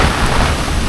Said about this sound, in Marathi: काय रे पाऊस लागता.